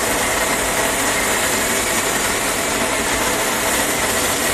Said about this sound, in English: Sorry if the grinder is quite loud. So always want to freshly grind your coffee